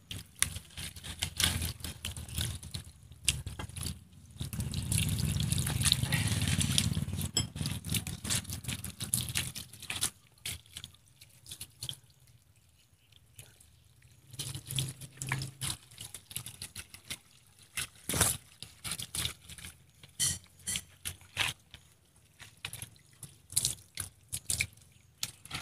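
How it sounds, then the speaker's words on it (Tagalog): Adenium bonsai roots being washed under running water, a steady trickle and splash with scattered drips and small knocks, quiet and close, with a louder stream of flowing water early on. "Hugasan po natin ng maayos."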